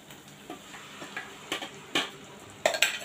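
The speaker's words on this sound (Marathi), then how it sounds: "यात आपण आता हे वाटलेलं वाटण आहे ते घालणार आहोत" Ground masala paste for butter chicken goes into a pan of hot oil with Kashmiri red chili powder, making a soft sizzle punctuated by a few scraping, clinking hits of a spoon against the pan.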